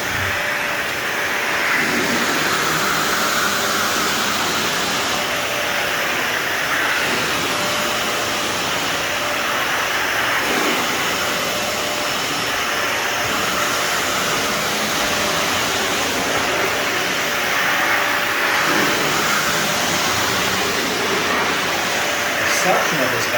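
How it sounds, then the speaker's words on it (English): A vacuum cleaner runs steadily during hardwood floor buffing and recoating work, a continuous loud broadband whoosh and roar that holds nearly unchanged throughout, close to the listener. "Suction of this vacuum."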